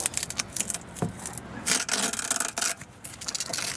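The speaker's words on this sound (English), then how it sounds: "then you simply secure it with Velcro like this" Velcro strap being pressed and fastened onto a MOLLE panel inside a vehicle, producing a close, rough rasping and scratching sound in irregular bursts, with no voices.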